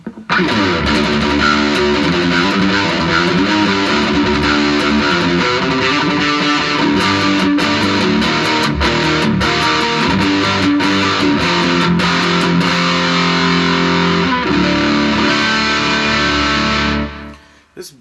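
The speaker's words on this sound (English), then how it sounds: "I'm mixing in the distortion." Heavily distorted electric guitar through a Donner Morpher distortion pedal with delay, playing sustained chords and riffs with a slight echo trailing each note, loud and continuous before stopping abruptly near the end.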